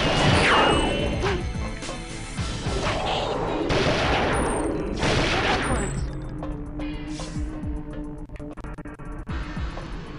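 The Phoenix gun in the video game Perfect Dark fires explosive shells, producing a rapid series of sharp, loud blasts and crashing impacts that thin out into scattered bangs and echoing debris.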